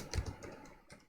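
Password typed on a computer keyboard during a Debian OS install, a short quick burst of soft, close key clicks, quiet and irregular in rhythm, with no talking.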